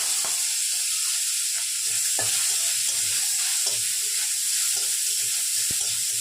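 Loud, continuous sizzling of shrimp frying in hot oil, with occasional sharper crackles and scraping stirs close by.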